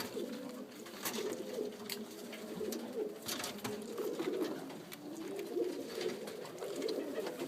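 Breeding pigeons in a loft coo in low, rolling bursts that overlap and repeat continuously, with occasional wing flutters and small clicks of movement scattered through the soft, close murmuring.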